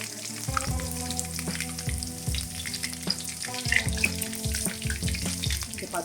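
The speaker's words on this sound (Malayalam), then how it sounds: "അതിലേക്ക് നമ്മൾ വെളുത്തുള്ളി ഇഞ്ചി ചതച്ച് വെച്ചേക്കുന്നത് ചേർക്കാം" Crushed garlic and ginger hit hot coconut oil with popping mustard seeds for a green duck curry, giving a loud, steady sizzle with stirring throughout, no talk.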